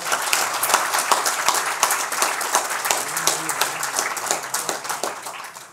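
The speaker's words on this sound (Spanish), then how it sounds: "yo pido un fuerte aplauso en su memoria, de don Luis Acosta Tejeda." Dense applause from a crowd, steady for several seconds before fading slightly at the end, offered in memory of a deceased man at a gathering.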